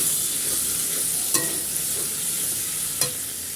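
Ginger, garlic and tomato sizzle in a pan as a utensil stirs them, a continuous close frying hiss broken by two sharp scraping clicks.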